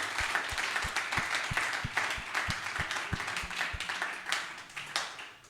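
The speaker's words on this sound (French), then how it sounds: "Let's clap" A church congregation claps together in a steady, even rhythm during a worship service, the applause close and sustained before it tapers off at the end.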